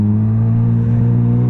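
A Kawasaki ZX10RR sportbike engine runs under throttle, a loud, close, steady high-revving drone with a buzzing harmonic tone that holds for the whole moment.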